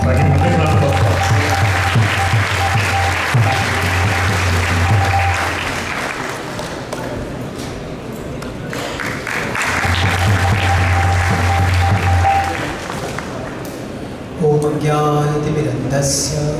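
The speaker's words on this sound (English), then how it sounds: "welcome our speaker for today by giving a big round of applause" A lecture audience gives a big round of applause to welcome the speaker, sustained crowd clapping that swells, dips midway, then builds again before a sudden change near the end, with some voices mixed underneath.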